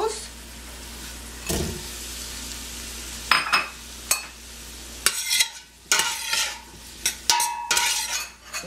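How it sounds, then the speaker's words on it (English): Onion and potatoes sautéing in a pan for vegetarian borscht, a low sizzle punctuated by sharp spoon knocks and scraping stirs that grow busier toward the end, close by. "Let it saute a little bit together with the salt."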